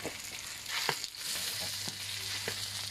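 Shallots and sour fermented pork stir-fried in oil, a soft steady sizzle with a few scraping stirs, quiet and close with no speech.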